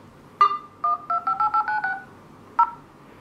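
A OnePlus One smartphone on speakerphone plays its dialer keypad tones, a series of short, clear beeps in quick succession and then one more tone after a pause, crisp against a quiet background.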